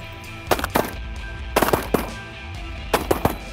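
Shotguns fire at waterfowl from a hunting blind during a duck hunt. Three quick volleys of several sharp, close blasts go off about a second apart, against a background of low outdoor ambience.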